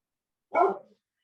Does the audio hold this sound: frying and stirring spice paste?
no